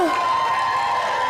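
Conference audience applause and cheering roar continuously and loudly from a large crowd, with whoops riding over the clapping and a voice rising above it.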